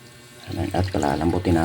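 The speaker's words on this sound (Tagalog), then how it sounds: "Tapos maglagay tayo ng tubig." Water runs and splashes into a pan of pork steak and its marinade on the stove, a steady pour lasting about a second under a voice talking.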